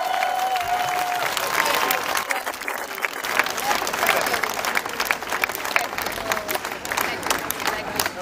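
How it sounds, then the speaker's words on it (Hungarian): Concert audience at a show in Vác applauding the band, steady dense clapping throughout with some crowd noise, fairly loud and continuous. "egy kis stabilabb tapsot kérnék, mert félénkek a srácok, tapsoljátok meg őket"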